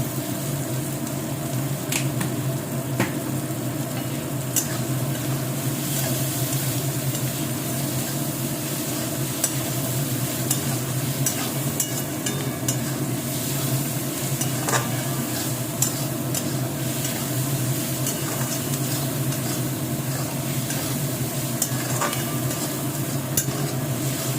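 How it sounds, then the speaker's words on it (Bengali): Food frying in a pan with a steady, close sizzle and crackle that runs unbroken throughout, dotted with small pops and occasional spoon scrapes, no voices. "ভালোভাবে ফ্রাই হয়ে এসছে"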